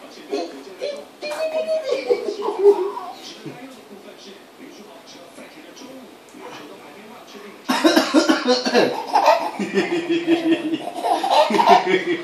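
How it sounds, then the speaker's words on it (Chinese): A father coughs in short bursts amid a baby's giggles and laughter, with talking mixed in, the sound loudest and busiest in the final few seconds. "爸爸咳嗽这么好笑啊"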